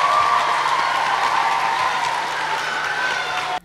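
An audience at an award ceremony for a school green olympiad applauds, with dense, sustained clapping that fills the hall evenly and stops suddenly at the end.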